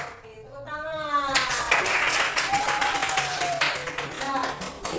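A class of students split into groups claps together on a teacher's cue, a moderate wash of hand claps that swells after a spoken instruction, with a voice continuing over it.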